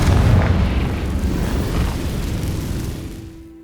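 A Confringo fire spell explodes in the video game Hogwarts Legacy with a loud, close, rumbling blast that booms and then rolls on before fading away.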